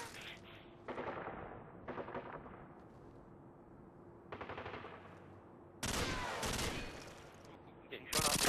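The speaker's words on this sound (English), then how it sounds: "Getting shot up." Video game gunfire crackles in several sharp bursts, loud automatic volleys separated by short quiet gaps, with a heavy barrage toward the end.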